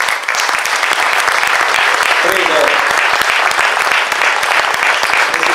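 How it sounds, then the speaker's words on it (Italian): Loud, dense applause from a crowd at a September festival concert in Lanciano, continuous and close throughout, with a voice briefly audible in the middle. "un applauso"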